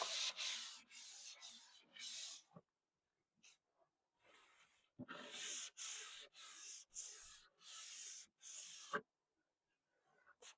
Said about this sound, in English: I am just doing a once over with the 220 grit.